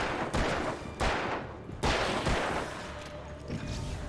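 Gunshots in the Alan Wake video game: a handful of loud, heavy shots spaced roughly half a second to a second apart, each with a booming tail, over a continuous ambient rumble.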